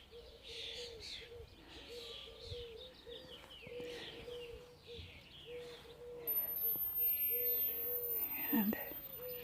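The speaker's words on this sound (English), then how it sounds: "Again, you can hear some birds singing." Outdoor garden birdsong: a soft repeated cooing call with scattered faint chirps and twitters in the background, fairly quiet and distant, with a brief louder rustle near the end.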